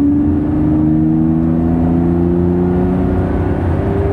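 A Lamborghini Revuelto accelerates hard, its engine note climbing steadily in pitch as a loud, continuous interior drone with layered harmonics and no talk over it.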